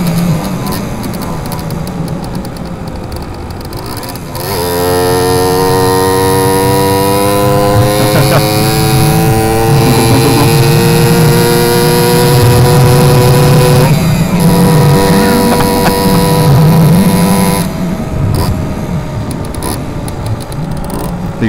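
Simson S51 moped engine running steadily while being ridden, a continuous buzzing two-stroke drone with shifting pitch, loud and close, with a voice speaking over it in places.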